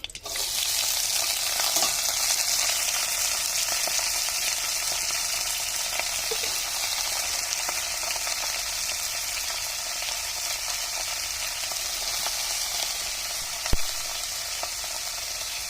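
Cabbage frying in hot oil with cumin, bay leaf and a dried chilli, giving a steady, close sizzle and crackle that holds throughout, with a sharp tap near the end.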